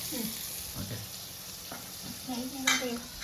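A spoon stirs and scrapes pieces of seer fish (neymeen) in a frying pan over a steady background sizzle, with a few distinct scrapes and a brief clink.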